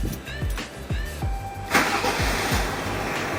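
A Subaru diesel car engine cranks with a rhythmic series of starter pulses, then catches and settles into a steady idle heard up close from inside the car.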